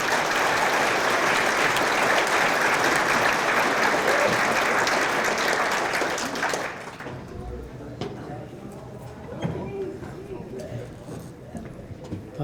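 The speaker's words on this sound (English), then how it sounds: "Let's have a round of applause for this team" Loud, dense applause from a crowd celebrating a diabetes care team, sustained steadily for about six seconds before dropping away abruptly to a quieter room with scattered claps and murmuring voices.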